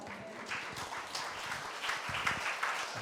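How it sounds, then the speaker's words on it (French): A church congregation applauds after a scripture reading, steady dense clapping from many hands filling the room for a few seconds, fairly close and even in loudness. "on peut acclamer la parole de Dieu"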